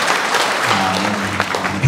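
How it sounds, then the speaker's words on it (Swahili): Wedding guests break into loud, close applause for the couple, a dense burst of clapping filling the short moment. "Wapigie makofi tena."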